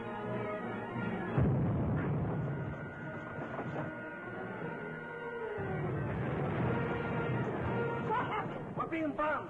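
Bombs released from aircraft onto a submarine exploding in a 1945 serial's battle scene, with rumbling, booming blasts and roaring engine noise layered over one another and sustained across the scene, with a voice heard.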